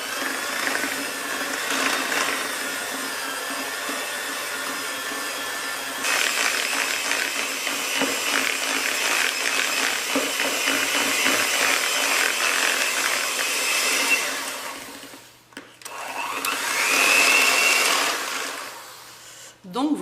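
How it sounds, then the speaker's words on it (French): Electric hand mixer beating butter with icing sugar in a bowl, a continuous whirring motor with rattling beaters that grows louder partway through, briefly stops near the end and then resumes. "un petit batteur à la main et hop, 4 à 5 minutes"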